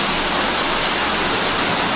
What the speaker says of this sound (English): Waterfall was beautiful.